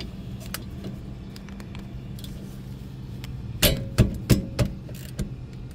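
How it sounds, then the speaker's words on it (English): A wrench works a 14 mm caliper bracket bolt on a car's brakes, giving a few sharp metallic clanks and ratcheting knocks close by, spaced about half a second apart over a low steady hum. "I'm going to get this bottom caliper bolt off right here"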